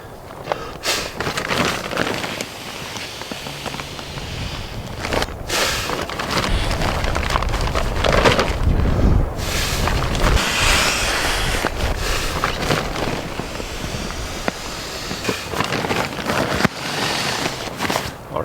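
Big Agnes Q-Core SLX sleeping pad being inflated with a pump sack, producing loud, continuous rushing air and fabric rustle with brief gaps between pumps, close to the microphone.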